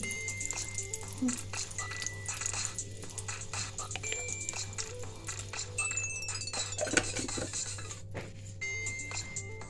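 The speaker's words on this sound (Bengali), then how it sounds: "এবার দেখুন কড়াইয়ের মধ্যে দিয়ে দিচ্ছি ঘি" Ghee sizzles steadily in a hot wok (kadai) while fried rice and chilli chicken are cooked, a continuous close frying hiss with occasional clinks of utensils against the pan over a low background hum.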